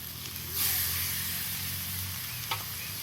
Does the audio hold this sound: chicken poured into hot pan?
yes